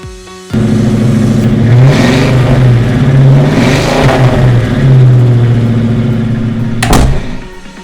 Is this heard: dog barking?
no